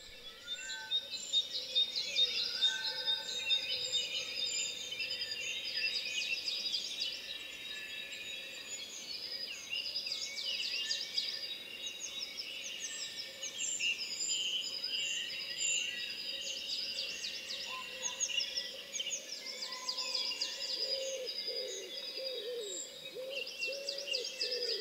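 A dense dawn chorus of many birds sings at sunrise around 6:15 outside the Glebe Gallery, with overlapping chirps, trills and whistles filling the air steadily and continuously at a moderate distance.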